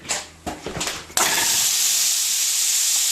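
Sirloin steak hits a hot pan with a sudden loud sizzle that becomes a steady, bright hiss of searing, after a few soft clinks and rustles.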